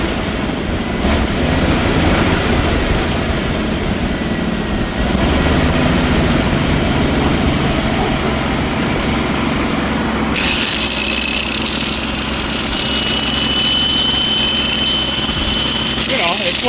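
Engine-driven welder's engine idling close by, a loud steady drone whose idle is raised partway through, becoming higher and busier, with talk over it.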